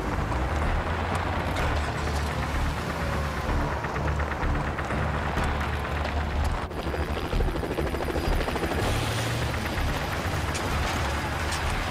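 A steady, loud helicopter drone with thumping rotor texture continues throughout, mixed with engine rumble and scattered bursts that sound like gunfire.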